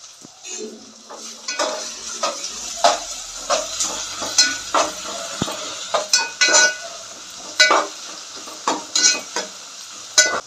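A spoon scrapes and clinks repeatedly against a pot while chicken curry with fenugreek leaves is stirred, the irregular knocks near and distinct over a soft steady sizzle.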